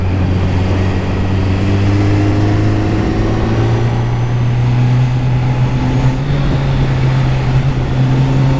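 Kawasaki Z900 2023 three-cylinder motorcycle engine revs loudly and steadily up close, its pitch climbing slowly and holding through a long, continuous pull with no voices.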